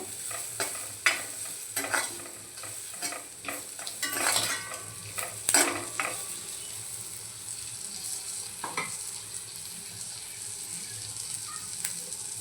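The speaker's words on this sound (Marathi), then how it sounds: "काजूच्या बिया आपल्याला घालून घ्यायचं आहे आणि छान अगदी परतवायचं आहे" Freshly peeled cashew nuts stir-fried in a pan for a Malvani cashew curry, with a sizzling hiss and repeated scraping strokes of a spoon that are busy early on, then a quieter, steady fry.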